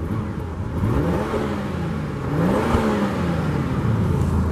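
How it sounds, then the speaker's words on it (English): A 2012 Volvo S60 T6 AWD with a 3-liter turbo engine revs loudly at close range, its pitch rising and falling in smooth sweeps over a steady whirring idle. "you can hear that wonderful 3-liter turbo."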